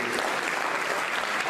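Steady, continuous applause from an audience at a powerlifting bench press championship, dense and even throughout with no breaks, filling the space without any distinct voices standing out.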